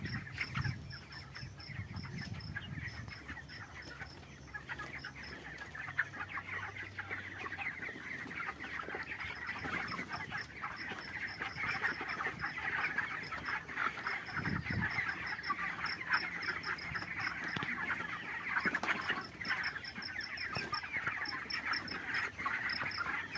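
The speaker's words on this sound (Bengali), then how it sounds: "এই পোলট্রি ফার্মে এখন মুরগি আছে" A poultry farm crowded with about 1,500 broiler chickens, black and grey birds, fills the air with continuous overlapping clucks and chatter from many birds at once, steady and fairly close throughout.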